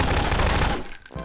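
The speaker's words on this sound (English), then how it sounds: "I'm shooting him." Rapid automatic gunfire from Garry's Mod PropHunt rattles in a dense, loud burst for most of a second, then cuts off, with no talking.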